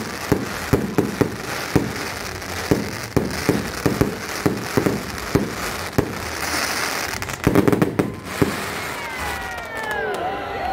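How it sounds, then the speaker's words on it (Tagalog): Fireworks explode in a rapid series of sharp booms and crackles at a moderate distance, with faint crowd noise and a few whistling streaks near the end. "Ang tagal ng fireworks nila."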